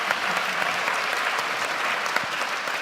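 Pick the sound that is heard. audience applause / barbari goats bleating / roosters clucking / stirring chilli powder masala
audience applause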